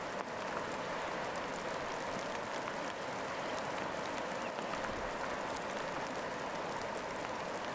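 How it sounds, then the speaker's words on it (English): Steady rain falling on a treehouse roof, a soft continuous patter and hiss with no breaks, quiet and even throughout. "The rhythm of the rain becomes a hypnotic backdrop, lulling you into a serene state of mind."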